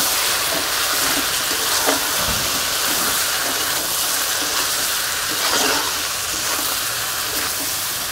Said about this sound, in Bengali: কষে নেবো মশলার সাথে।